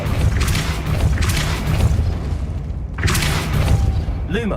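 Depulso spell impacts in Hogwarts Legacy sound out as repeated heavy booming blasts with a dense rumbling low end, loud and close, arriving in waves over a continuous game soundscape.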